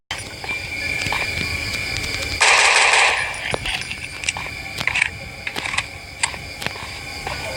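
Gunfire in the video game Portal of Doom, a steady stream of rapid, crackling automatic shots with a brighter, louder blast partway through, followed by scattered clicks and impacts over a constant game hum.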